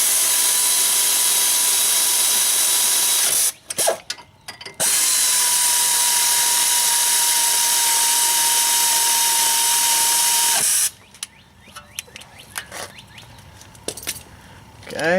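Brake bolts on a BMW X3 E83 being tightened with a power tool during a pad and rotor job: a loud, steady whir runs for several seconds, briefly pauses, resumes, then gives way to a few clicks and handling noises.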